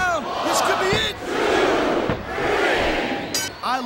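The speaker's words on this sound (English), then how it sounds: "I love hearing the crowd." A roaring arena crowd cheers through a wrestling match in the video game SmackDown vs Raw 2007, swelling and dipping, with brief raised voices breaking through at the start and end.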